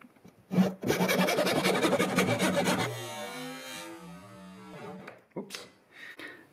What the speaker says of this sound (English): put the saw just a little bit inwards from the foot so we have a slight foot angle, and just cut down at a slight angle